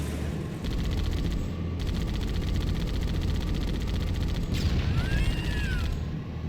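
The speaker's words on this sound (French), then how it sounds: "Triple explosion." Explosions and rapid gunfire in Halo: Combat Evolved, a dense, continuous rumbling barrage with a crackling texture and a short rising whine near the end, loud and steady.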